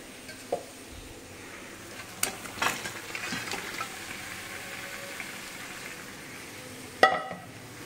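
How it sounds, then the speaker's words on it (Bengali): Mutton being stirred into fried spice masala in a pan, with a low continuous sizzle, scattered scrapes and clinks of the spoon against the pan, and a sharper knock near the end. "এবার মাংসটাকে দিয়ে নাড়াচাড়া করবো।"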